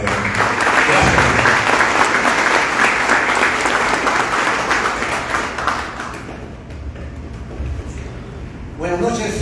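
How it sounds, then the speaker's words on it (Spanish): Loud applause from an audience at a political training school event greeting a speaker, dense clapping that gradually thins and fades, then a brief burst of closer claps at the end; faint voices mix in. "Fuertes palmas para el mayor."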